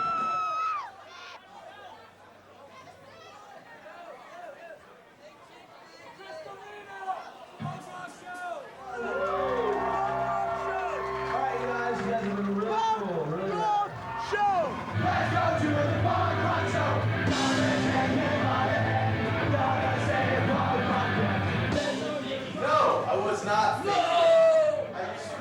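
Crowd at a punk hardcore show shouting and yelling over loud live music, the roar of voices rising and staying dense through the second half.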